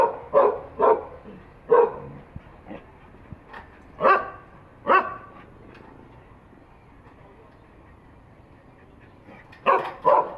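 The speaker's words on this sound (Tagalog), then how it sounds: "Tahol siya ng tahol." A dog barks repeatedly in short bursts, some in quick pairs, with a quiet pause in the middle before more barking at the end.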